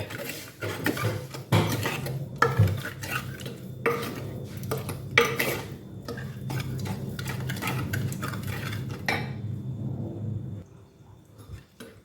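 A spoon stirs salt into lassi, clinking and scraping steadily against the sides of a steel vessel for several seconds, close and clear, then fading to quiet near the end.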